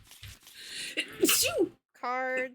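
A single sharp sneeze bursts out during a card game of Red Dragon Inn, loud and close, following a stretch of people talking around the table.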